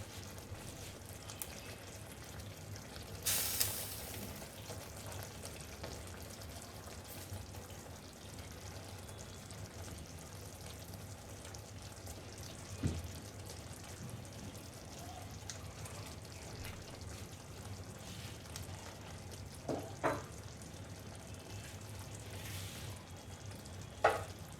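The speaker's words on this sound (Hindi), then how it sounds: "अब इसमें मैं पनीर के पीसेस डाल दूँ, जो कि मैंने फ्राई करके रखे थे।" Fried paneer pieces tipped into onion-tomato gravy in a pan for paneer do pyaza, then stirred; soft scraping and stirring under a low steady simmer, with a few brief clatters of utensil on pan.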